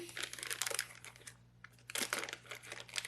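Plastic packaging from a kayak fish finder bundle being cut and pulled open, close crinkling and rustling in bursts with a brief pause midway.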